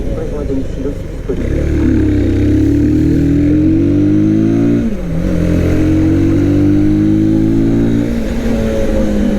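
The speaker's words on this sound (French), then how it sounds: "J'ai du vent, j'ai le bruit du moteur." A 2021 Orcal SK01 125cc motorbike engine drones and revs up and down close by while riding, with wind rushing over it throughout.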